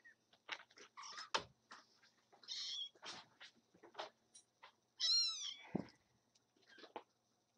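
A young kitten gives several short, high meows, with soft rustles and quiet scuffling between calls, close and fairly faint throughout.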